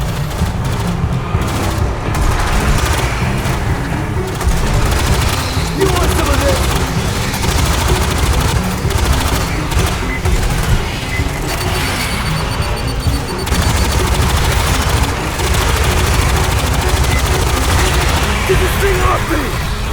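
A deployed automated turret fires continuous rapid bursts in the sci-fi shooter Aliens Fireteam Elite 2, loud and sustained with overlapping gunfire and impacts, under battle chatter throughout.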